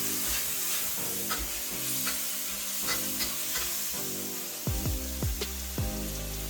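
Pork and green chili sizzle loudly in a hot wok with scallion and ginger, while a spatula scrapes and tosses the stir-fry in a series of quick, repeated metallic strokes near the end.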